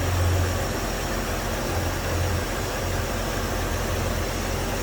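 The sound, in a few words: inline six truck engine idling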